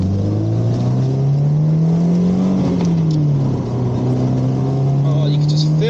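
A rare widetrack Subaru Impreza WRX STi Spec C Type RA pulls hard under load, its engine note droning loud and close as the turbo boost builds, the pitch rising, dipping briefly, then climbing again.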